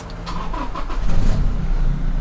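A starter cranks with rapid chugging, then a Toyota Revo 2.4 diesel pickup's engine catches and settles into a loud, rough, close idle through an aftermarket exhaust.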